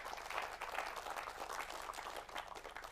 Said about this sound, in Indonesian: tepuk tangan buat Pak Erwan ya